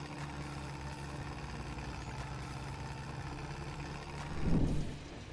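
A tractor engine in Farming Simulator 22 chugs steadily at a low idle-like drone, swelling briefly louder near the end.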